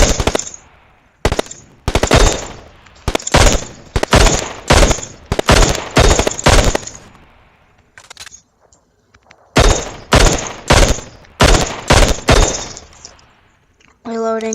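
Video game gunfire from PUBG: loud bursts of automatic fire in repeated rapid volleys with short pauses between them, plus single sharp shots, and a player's voice heard faintly in places.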